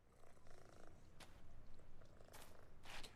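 A cat in the PowerWash Simulator video game purrs softly and steadily, a faint, low rumbling drone with a few brief breathy bursts near the end.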